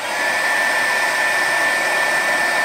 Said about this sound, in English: Now I do the blow dryer now.